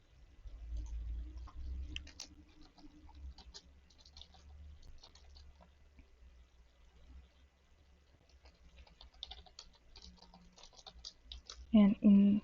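Typing on a computer keyboard during a Go web API coding session: quiet, scattered key clicks in irregular bursts over a low background hum, with faint voice-like sounds at times.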